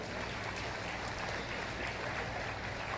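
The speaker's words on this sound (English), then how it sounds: "Clap little louder." Faint, steady applause from an audience at a university convocation ceremony, a distant even wash of clapping with low hum beneath.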